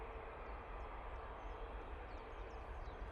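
Emirates airliner passing over Manchester: a steady, distant broadband jet roar holds evenly throughout, with no voices.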